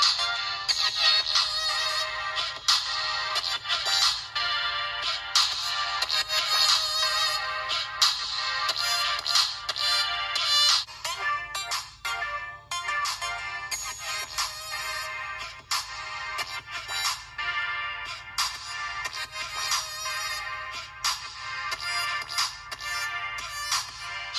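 Ringtone melody played through the speakers of TECNO Spark 5 and Spark 4 phones, a bright, steady tune running continuously for the whole stretch with no voices over it.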